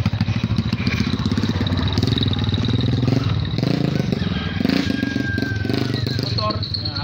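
A motorcycle engine runs continuously close by on a muddy route near Mt. Banahaw in Quezon, its steady throbbing rumble broken by brief clatter and a short whine.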